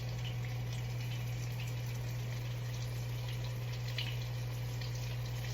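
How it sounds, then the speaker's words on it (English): Two pieces of short rib meat sear in a pan with butter, giving a steady, close hiss of sizzling and faint crackles throughout. "These are the last two pieces of meat that I'm searing now."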